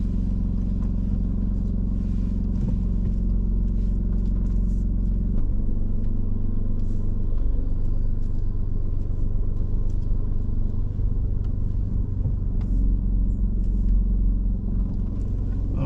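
A car on a driving test in Swindon reverses slowly along the kerb for about two car lengths, its engine a steady low rumble throughout, close and continuous with faint clatter and no talking.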